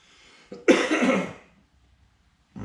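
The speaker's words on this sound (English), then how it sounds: "Sorry if y'all see me coughing." A single rough, harsh cough bursts out close by, then fades into quiet.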